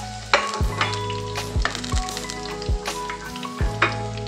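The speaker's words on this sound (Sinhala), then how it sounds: "දැන් තෙල් ටික රත් වෙලා ඇති. අපි ඉස්සෙල්ලාම මේ තලාගත්ත සුදු ලුණු බික් හතර දාගමු." Four cloves of crushed garlic fry in hot oil over high heat, giving a loud, steady close sizzle broken by sharp knocks and scrapes of stirring.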